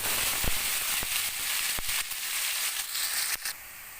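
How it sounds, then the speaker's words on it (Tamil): Mustard seeds, curry leaves and onion frying in hot oil, a continuous sizzle punctuated by several sharp pops and crackles scattered irregularly throughout. "கடுகு பொரிஞ்சதும் கருவேப்பிலையும் வெங்காயமும் போட்டுக்கலாம்"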